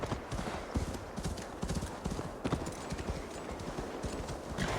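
Hooves clop in a quick, rhythmic gallop, close and steady throughout, as a horse runs along a path in the video game Assassin's Creed Valhalla.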